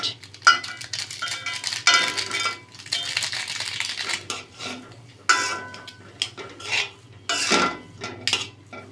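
Grated potatoes are mixed with other ingredients in a bowl, heard as close, uneven bursts of spoon scraping and clinking against the bowl with short pauses between strokes.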